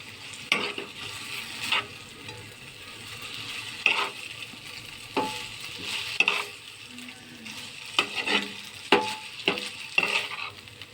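Spicy street-style chow mein being tossed and mixed with tamarind chutney in a pan, giving a steady soft sizzle broken by repeated scraping and clinking stirs, close and alone with no talking.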